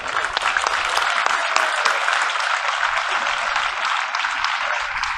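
A crowd at the Provençal-style pétanque final in La Crau applauds the two finalist teams, dense, loud, sustained clapping that continues evenly throughout.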